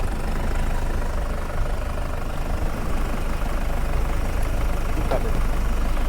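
A 2010 Mahindra Xylo engine idles steadily with a low, even rumble and faint knocking texture, continuous and close throughout.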